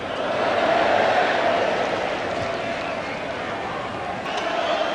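A large football crowd at a 1981 Division 3 match between Swindon and Bristol City lets out an angry, sustained roar of protest, a steady wash of massed voices that swells and lingers.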